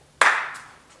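A single sharp hand clap during a children's multi-skills catching exercise, close and crisp, fading quickly into a quiet room.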